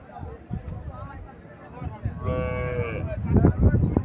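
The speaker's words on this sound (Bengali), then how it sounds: "এখানে আরো একটা ফ্রিজিয়ান জাতের গাভী দেখা যাচ্ছে" A Friesian cow at a crowded rural cattle market gives a drawn-out moo in the middle of the clip, rising over steady crowd chatter and nearby people talking.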